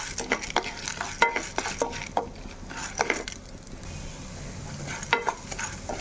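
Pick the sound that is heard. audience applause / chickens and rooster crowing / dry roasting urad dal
dry roasting urad dal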